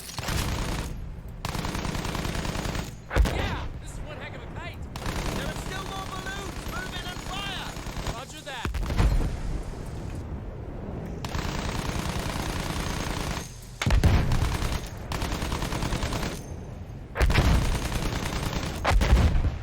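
Bursts of automatic gunfire in the World War I shooter Battlefield 1, repeated loud rattling volleys broken by short gaps, with a voice talking over part of it.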